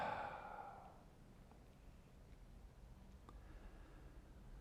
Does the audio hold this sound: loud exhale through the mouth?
yes